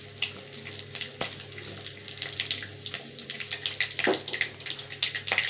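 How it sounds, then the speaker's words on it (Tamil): Mustard seeds and asafoetida crackle and sizzle in hot oil, with scattered close pops and spits over a steady low frying hiss. "ஆயில் காஞ்சிச்சு, கடுகு போட்டுக்கலாம், பெருங்காயம் போட்டுக்கலாம்"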